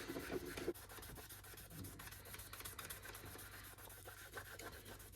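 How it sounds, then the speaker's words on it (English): An eraser rubs light scuffs off the plastic shell of a Nintendo GameCube in slow circles: a soft, close, continuous scrubbing hiss, faint and steady, with no talk. "Any light scuffing you can generally remove with the eraser and improve the appearance of the GameCube quite a bit."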